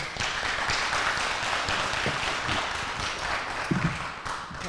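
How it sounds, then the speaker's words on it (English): Audience applause at a Snohomish candidate forum: a sustained, even wash of clapping from the room, moderately loud and steady for the whole stretch, with no voices over it. "Please hold your applause for the end"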